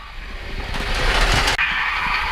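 Polar Express model railroad train rolling along its track, a close, steady rumble with a brief squeal, then fading quieter, with no talk.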